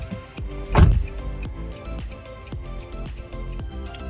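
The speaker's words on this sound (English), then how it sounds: "open and close the driver's door once" The driver's door of a 2016 Nissan Note shuts with one loud, close thump, followed by a steady, regular ticking from the hazard warning lights, with no talking.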